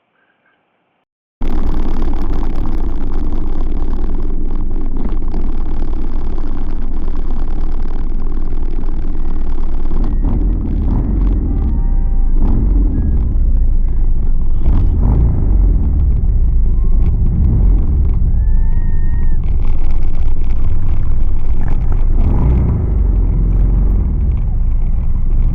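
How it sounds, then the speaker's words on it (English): A long procession of motorcycles riding toward Springfield, Virginia produces a loud, continuous engine rumble that stays steady throughout, with passing bikes swelling slightly and a few brief higher whines over the drone. "it's motorcycle as far as the eye can see."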